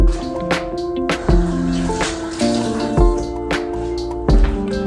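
Garlic is rinsed under running kitchen water while cooking curry goat, with a steady trickle and splash broken by clattering drips and knocks against the sink, close and fairly loud with no talking.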